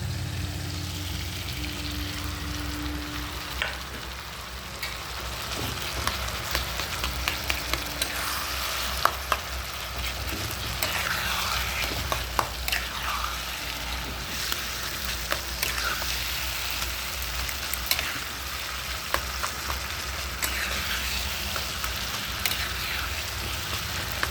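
Eggplant sizzles and crackles steadily in a hot pan of oil, with occasional stirring scrapes and pops over a continuous close frying hiss.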